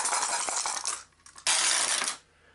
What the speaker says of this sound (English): She's going to roll 4 dice.